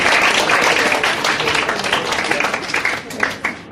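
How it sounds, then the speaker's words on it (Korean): A Korean school audience applauds its teachers, a loud burst of many hands clapping that gradually thins and fades toward the end. "그분들에게 박수 좀 쳐주실까요?"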